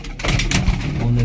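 Pigeons cooing at a loft in Faisalabad, a soft low murmur of several birds close by, mixed with background voices and general noise.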